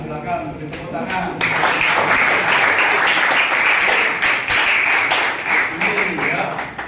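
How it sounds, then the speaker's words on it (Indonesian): Classroom applause breaks out after a short spoken prompt, a dense, steady patter of many hands clapping at close range that carries on for several seconds with voices mingled underneath. "Nah, silakan beri tepuk tangan."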